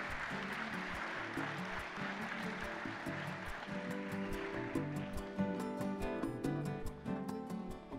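An audience applauds a vallenato singer at a live event, a steady wash of clapping with music playing beneath it.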